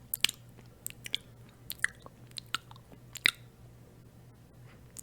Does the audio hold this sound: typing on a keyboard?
no